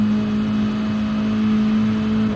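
A racing car's engine in a sim racing league race holds a steady, loud drone at constant pitch, with a whir over it and no talk.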